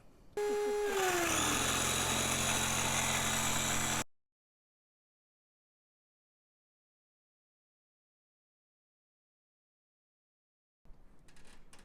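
An electric pump inflates a chamber of a Flycraft Stealth inflatable boat to 0.3 bar. It whines loudly and its pitch sinks as pressure builds, then it settles into a steady drone and cuts off abruptly into silence. Faint noise returns at the end.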